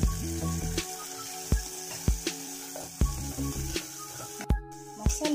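Ground masala sizzles in a Kerala-style fish curry with drumsticks, a soft frying hiss broken by repeated sharp clinks and knocks of a utensil against the pot.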